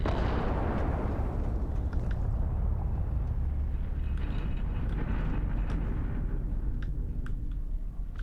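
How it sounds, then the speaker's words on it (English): A particle detonation explodes in Starfield, a huge booming blast that opens loud and rolls on as a sustained deep rumble, slowly thinning with faint crackles, no talking over it. "Particle detonation concluded."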